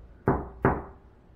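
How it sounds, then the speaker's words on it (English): Two sharp knocks on a wall inside the historic Palmer House Hotel bathroom, evenly spaced and fairly close, ringing out briefly in an otherwise quiet room with no talking. "I'm going to knock on the wall, see if you can repeat what I do."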